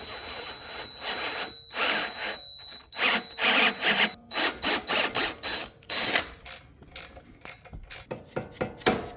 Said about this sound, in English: I've got a set of these tap drill bits. This is the M6 size.